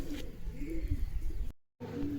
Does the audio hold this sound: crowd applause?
no